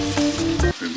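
Pork medallions fry in a pan with a brief, close sizzle and a few tonal clinks and hums, which cut off abruptly partway through, with no speech.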